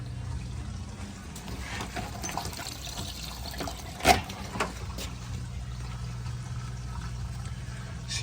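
Water drains from a Maytag MDB4949SKZ2 dishwasher, a steady close gurgling and trickling flow with one brief louder splash midway, no speech.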